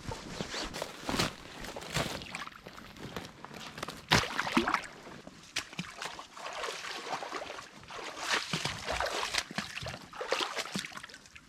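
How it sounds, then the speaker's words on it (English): A small brook runs through beaver-flooded woodland on an off-grid property, its steady close rushing and trickling water mixed with footsteps and splashes nearby. "there's a little brook that runs there"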